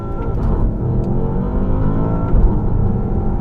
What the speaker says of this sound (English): start this video by going into Sport Plus and just doing a launch